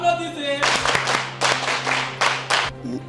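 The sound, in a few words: audience clapping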